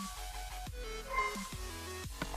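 A pet dog shut in its cage barks a few sharp times over steady electronic game music and tones, moderately close and with no talking.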